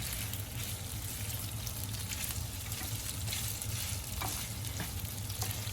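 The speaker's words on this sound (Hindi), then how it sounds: "चिकन को हमने उस वक्त तक पकाना है जब तक कि इसका कलर तब्दील ना हो जाए।" Chicken pieces frying in hot oil on a stovetop, a steady dense sizzle with occasional stirring scrapes, close and continuous with no talk.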